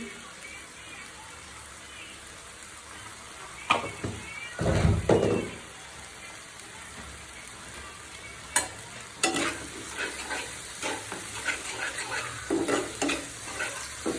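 Spices with cumin powder frying in a pan for eggplant bharta, a soft steady sizzle broken by several scraping stirs and clinks, with faint sounds of someone nearby.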